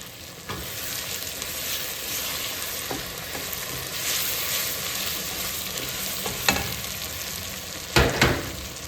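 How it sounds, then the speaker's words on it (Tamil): About 50 grams of butter frying with browned onions for French onion soup, a steady close sizzle with occasional stirring scrapes and a couple of sharper crackles toward the end. "எடுத்து வைக்க ஒரு 50 கிராம் பட்டரை போடுறீங்க"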